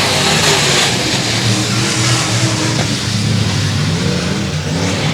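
Race cars roar loud and continuous around a speedway track during a heat race, engines blaring under a sustained, slightly shifting revving drone.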